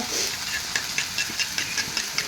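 Egg poured into a pan of ivy gourd thoran sizzles with a steady, bright frying hiss, with faint stirring ticks and scrapes at a regular pace close by.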